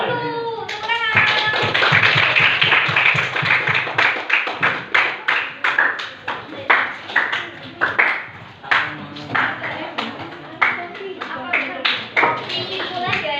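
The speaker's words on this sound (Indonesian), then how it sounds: "Beri aplaus dulu, tepuk tangan." Classroom students clapping hands in applause during a history lesson, a steady patter of claps that breaks into distinct, rhythmic bursts of separate claps, with children's voices mixed in underneath.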